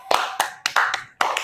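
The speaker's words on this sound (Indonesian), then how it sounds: "tepuk tangan dulu untuk kalian semua" Small group in a classroom counseling session clapping hands, a few close, sharp claps in an uneven rhythm with brief gaps between bursts.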